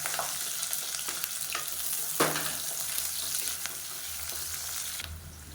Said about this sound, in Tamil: இப்போ வெங்காயம் லேசாக வதங்கிடுச்சு